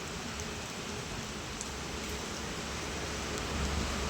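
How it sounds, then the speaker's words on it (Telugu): Torrential rain from a cyclone in Machilipatnam drums constantly on surfaces, a thick, even roar that swells slightly toward the end. "చూడండి వర్షం అయితే ఎలా కొడుతుందో బీభత్సంగా."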